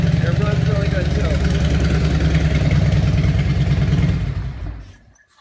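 A 1998 Harley Davidson Electra Glide Classic engine idles after a cold start with a loud, steady, low rumble, then cuts off and fades to silence near the end.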